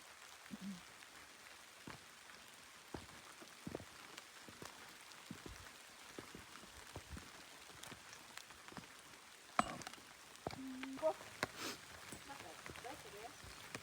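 Steady light rain patters on surfaces outdoors, with scattered drips and a few faint voices and movements in the background.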